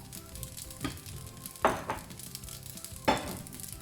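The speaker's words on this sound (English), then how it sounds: "To help loosen up the rice at this stage, right, I will also add in some of my prawn broth" Prawn broth goes into rice frying in a single pan, bringing a soft steady sizzle and a few sharp scraping stirs of a spatula, with no one talking.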